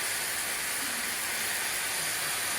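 Garlic and a little salt sizzle in a hot pan over high heat, a steady, dense, close hiss that holds evenly throughout with no talk.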